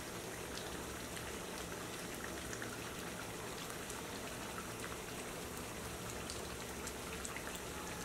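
Water heats to a boil in a pot for Hyderabadi chicken dum biryani, with whole shahi cumin, cinnamon, green cardamom, cloves and bay leaves added, making a faint, steady bubbling hiss without pause or talk.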